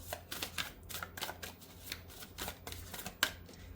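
Tarot cards being shuffled and drawn, a quick series of crisp riffling flicks and soft slaps at close range, with a sharper snap near the end.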